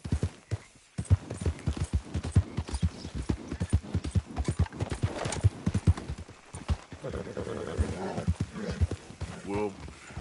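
A horse gallops in Red Dead Redemption 2 on PS4, with steady rapid hoofbeats close by for most of the stretch and a whinny near the end, mixed under game music and talk.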